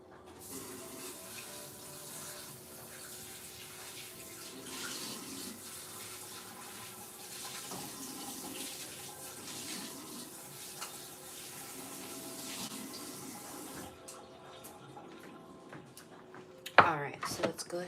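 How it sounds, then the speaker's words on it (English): Kitchen tap water runs in a steady, moderately close stream into a sink while red potatoes are rinsed, with soft speech underneath; the flow cuts off near the end, followed by a few handling clatters. "go ahead and rinse these potatoes now"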